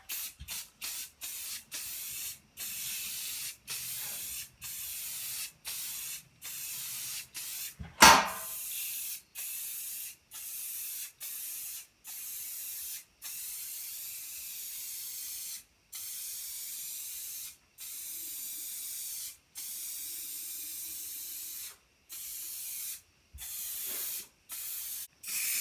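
Aerosol spray paint hisses onto a DIY wooden lathe tool holder in many short, steady bursts separated by brief pauses, close and fairly loud, with a sharp knock partway through.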